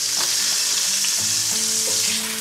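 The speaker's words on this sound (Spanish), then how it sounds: "y harinaremos la merluza y el rape y lo iremos también friendo" Floured hake and monkfish fry in hot oil, a loud, steady close sizzle with crackling pops and no voices.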